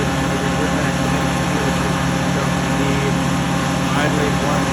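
A 1900 tractor engine idles on a farm with a steady, low, even drone throughout. It sounds close, with no other sounds over it.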